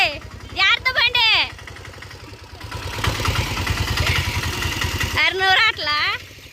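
A motorbike engine idles and revs with a rapid low chugging pulse, swelling in the middle, while people talk over it at the start and end.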